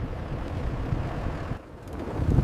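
Strong desert wind gusts rumble and roar continuously against the microphone, dipping briefly before surging louder again, with no voices.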